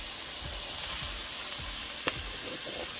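Tennessee Pride sausage fries with onions and celery in a pan for cornbread stuffing, a close, steady sizzle with a few soft stirring scrapes and one sharp click.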